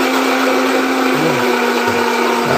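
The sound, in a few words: blender running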